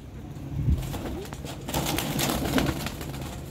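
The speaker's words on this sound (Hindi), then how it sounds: "सियालकोटी छत वाले कबूतर दोस्तों, अपनी पहचान आप, अपनी डिमांड आप।" Soft, low coos of Sialkoti rooftop pigeons over a hiss of outdoor background noise, with a faint flutter of wings nearby.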